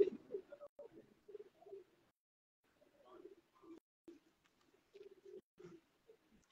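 Pigeons coo in short low bursts at a bird show of rare black-faced Sialkoti pigeons, faint and intermittent with pauses between calls, no talk over them.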